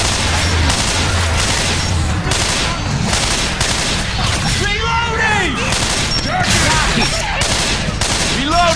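Dense bursts of automatic gunfire crackle through a Left 4 Dead 2 firefight on the Military Industrial Complex map, with rapid overlapping shots, loud and sustained, and voices briefly heard beneath the shooting.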